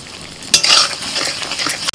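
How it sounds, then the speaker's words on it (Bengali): Ground turmeric, coriander, Kashmiri chilli powder and salt stir-fried over medium heat for a potato curry, a loud close sizzle with utensil scraping against the pan throughout. "এবার মিনিট পাঁচেক সময় ধরে মাঝারি আঁচে মশলাটাকে আস্তে আস্তে কষিয়ে নিতে হবে"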